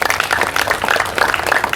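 Steady applause from a church audience, dense overlapping claps filling the space at a fairly loud level without pause.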